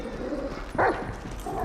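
A dog in the video game GTA 5 gives a single short bark midway through, over a faint, steady game background, with no speech.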